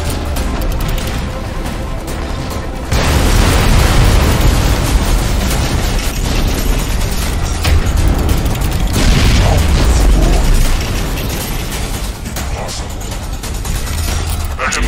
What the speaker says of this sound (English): Launching surface-to-surface heavy missiles at alien core